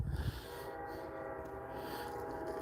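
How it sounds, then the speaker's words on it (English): A train rumbles past with a steady, sustained roar, a brief low thump at the start, and no voices. "you don't care about the train"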